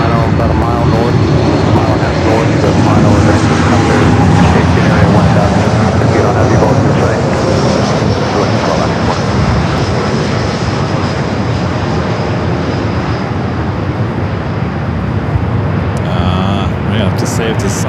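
Alaska Airlines airliner on final approach landing on runway 24 right at Los Angeles International Airport, a loud continuous roar of aircraft engines throughout, with radio voices under the noise.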